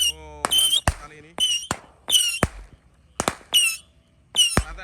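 Roman candle fireworks fire a rapid run of sharp bangs, each followed by a high whistling streak, outdoors on a Ramadan night. A voice is heard briefly between the shots.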